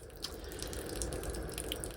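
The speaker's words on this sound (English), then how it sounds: "it is definitely worth running that water out" Water runs steadily from a garden hose while watering tomato plants outdoors, a continuous close splashing hiss with faint dripping, alone without talk.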